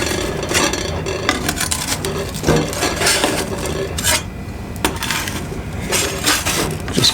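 A metal pizza scraper, about 4 inches wide and 10 inches long, chisels baked pizza away from the edges of a pan. Repeated close rasping scrapes and metallic clinks, with no talking.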